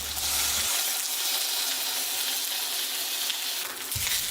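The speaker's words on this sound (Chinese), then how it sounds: "鸡皮朝下，煎过的鸡油渗出，鸡皮收紧，更加爽脆。" Chicken skin fries skin-side down in a pan with ginger and scallion whites, rendered fat sizzling in a steady bright hiss, close and continuous, with a louder burst near the start and end.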